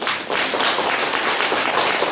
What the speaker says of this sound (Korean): 여러분 힘차게 격려의 박수 한번